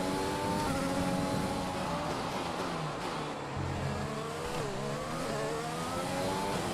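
An F1 car in the racing video game F1 2020 accelerates with a continuous high-revving engine whine that rises and shifts through gears, with other cars' engines layered around it and no speech.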